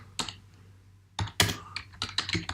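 Typing on a computer keyboard, close and clear, with a few quick clusters of key clicks and a short pause between bursts.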